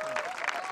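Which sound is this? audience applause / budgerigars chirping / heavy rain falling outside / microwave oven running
audience applause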